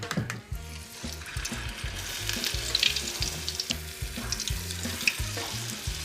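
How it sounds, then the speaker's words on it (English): Snack balls served as an hors d'oeuvre deep fry in hot oil, giving a continuous close crackling sizzle with busy bubbling throughout and no voices. "And then you deep fry it."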